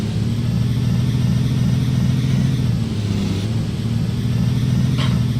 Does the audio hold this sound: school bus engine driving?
yes